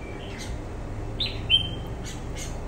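A caged red-whiskered bulbul (chào mào), just moved to its bathing cage, sings a few short, sharp whistled chirps over a steady low background hiss. One note near the middle stands out louder than the rest.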